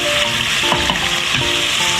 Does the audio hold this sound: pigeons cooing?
no